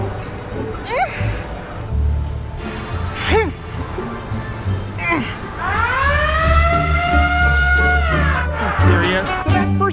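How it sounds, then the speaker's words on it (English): Loud rising and falling siren wails sweep repeatedly, growing into a sustained blaring tone over a low rumble, close and dominant. "They even had bright lights and giant loud sirens."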